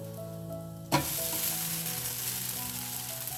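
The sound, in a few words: mung bean dosa frying on a pan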